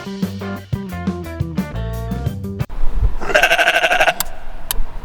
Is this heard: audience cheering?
no